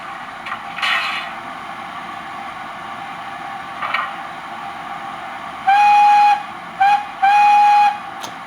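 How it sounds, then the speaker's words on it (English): Playable steam whistle from an Econami UK steam DCC sound decoder on a model locomotive, with faint chuffs and hisses early on, then several loud shrill whistle blasts of varying length in close succession near the end. "Now that is a playable whistle."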